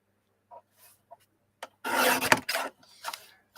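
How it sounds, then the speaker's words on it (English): A piece of paper artwork trimmed down to six inches for a Groovi craft layout, giving a loud rasping, scraping cut of about a second, followed by shorter rubbing strokes and a few faint clicks and taps, close up with no talk. "So I'll trim this down to 6 inches"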